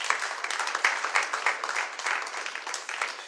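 A church congregation at a thanksgiving service applauds in a dense, lively burst of many hands clapping together, close and sustained throughout with no pause.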